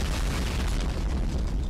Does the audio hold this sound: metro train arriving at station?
no